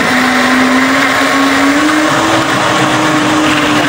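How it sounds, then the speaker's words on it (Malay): A blender grinds chilies loud and close, its motor grinding and whirring steadily with a slight rise in pitch, no voices over it. "Kita masuk dalam satu blender ni, kita nak kisar."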